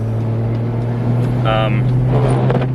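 A Toyota JZX100 fitted with an HKS Hi-Power exhaust drives along, a loud steady low engine drone heard from inside the car, with a brief voice over it.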